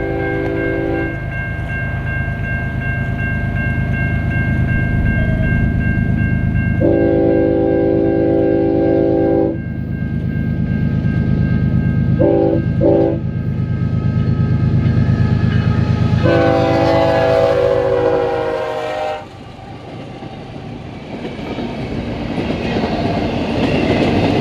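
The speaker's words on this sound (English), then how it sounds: "Relatively clean CIT GVOs were leading a train of all empty well cars." A Canadian National freight train led by CIT GP-series locomotives and hauling empty well cars rumbles past at Bryon Hill, its heavy rolling roar constant while the chime horn sounds in several long and short blasts.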